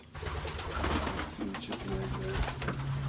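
Pigeons coo steadily in a breeding pen, overlapping soft calls at close range with cluck-like notes and rustling, over a constant background murmur.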